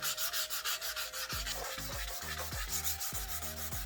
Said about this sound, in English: You're gonna want to sand that really good